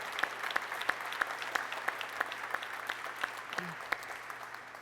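A crowd applauds steadily, the clapping dense and sustained with sharp individual claps standing out above a low background hum.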